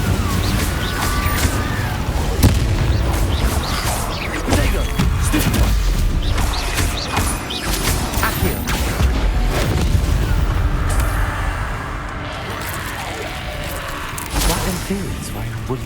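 Repeated Incendio fire spell blasts in Hogwarts Legacy, loud booming whooshes and crackling bursts in quick succession over dense game combat noise, with a voice calling out spell names.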